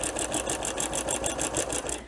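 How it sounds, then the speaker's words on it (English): A sewing machine stitches a quilt-as-you-go cover in a fast, even run of needle strokes, close and moderately quiet, with no talking. "we are sewing along"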